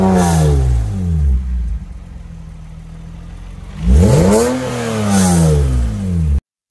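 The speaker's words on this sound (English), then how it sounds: "The exhaust still buzzes like crazy, and it's really ticking me off" Droning exhaust buzz from a Toyota MR2 SW20 with a 2GR V6 swap, TCS Y-pipe and cast headers, loud and steady through a rev that dips to idle and then climbs again, with no talking.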